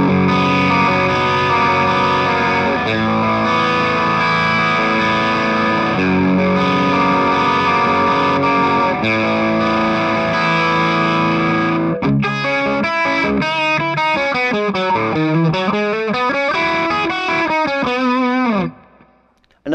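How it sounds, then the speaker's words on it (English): Electric guitar played through a Wampler Paisley Drive overdrive pedal into a hard-pushed amp gives thick, tube-like saturated chords, then a run of bending sustained lead notes, loud and alone before cutting off abruptly at the end. "you really get that tube-like saturation."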